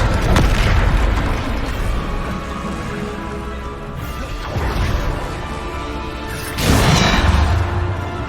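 The Depulso spell is cast in the video game Hogwarts Legacy, heavy booming impacts and crashes in three loud surges, with rumbling blasts trailing between them.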